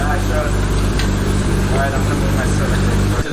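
A Honda Civic's engine runs steadily at close range while the car is moved, a continuous low rumble and hum carrying through the whole stretch.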